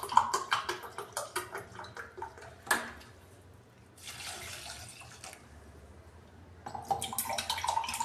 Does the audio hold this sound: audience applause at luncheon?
no